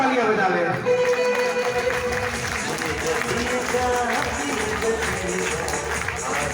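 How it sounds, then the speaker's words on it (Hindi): A large audience claps loudly and steadily through an RCM business gathering where BC Chhabra honors attendees, the dense applause filling the hall without a break, with scattered crowd voices mixed in. "तो एक बार अपने लिए जोरदार तालियां बजा लें।"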